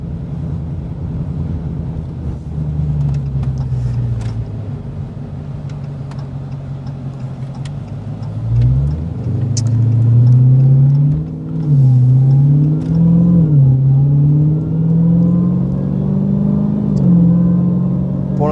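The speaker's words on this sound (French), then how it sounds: "on parle pas trop parce qu'on profite du bruit du moteur" An 800-horsepower Dodge Challenger SRT Demon engine idles with a deep rumble, then revs up and surges repeatedly, its pitch rising and falling with a whining supercharger, loud and close.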